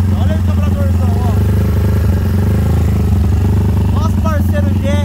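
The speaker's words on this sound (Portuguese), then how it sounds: "a primeira partida do motor" Modified 70cc motorcycle engine with a sled carburetor running at its first start, a loud continuous rumbling idle with slight revving, heard close up while people talk over it.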